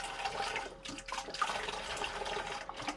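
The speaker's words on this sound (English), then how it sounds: "I have a pressure sprayer that I'm going to put some of this in." Concrobium mold control solution is poured into a pressure sprayer for basement mold removal, giving a steady, soft, splashy liquid pour that runs for a few seconds with brief dips.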